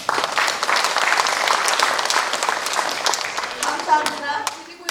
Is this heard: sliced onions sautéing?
no